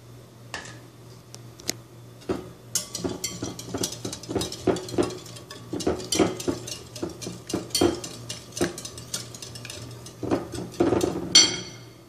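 A whisk beats cake batter with added oil in a bowl, making quick, steady clinks and scrapes against the sides that repeat close by through the whole stretch.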